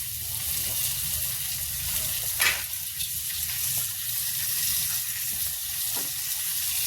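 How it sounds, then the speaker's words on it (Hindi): Stuffed kundru (ivy gourd) fry together in oil in a kadhai, giving a steady, close sizzle with a brief louder burst midway and faint stirring, without speech. "इधर कढ़ाई में मेरा तेल चढ़ा हुआ है, इसमें सारे कुंदरू एक साथ डाल देंगे"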